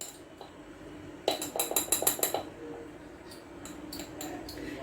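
A spoon clinks against a glass container while ginger powder is added in a home kitchen in Sharjah, UAE, giving a quick burst of six or seven bright taps, then a few scattered softer clinks over quiet room noise.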